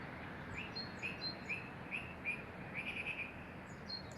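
A song thrush sings outdoors, its clear, chirpy phrases repeated in short bursts over steady background hiss; the notes come at a moderate distance and fairly faint.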